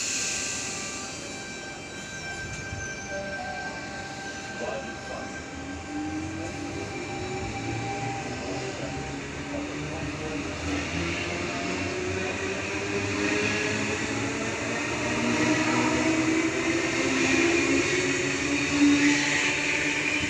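A Sydney commuter train on the Cronulla service pulls away from platform 4, its motors whining and rising in pitch as it gathers speed, with rumbling wheels over steady station ambience.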